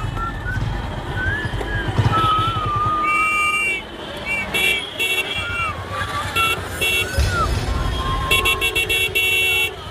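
Street traffic jam where car horns toot in repeated short blasts and bursts among engine noise, with tonal shifting sounds and a busy, close mix throughout.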